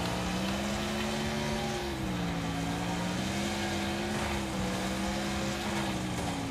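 A car engine drones continuously in the Wreckfest racing game, a loud steady hum whose pitch wavers slightly up and down as the car is driven.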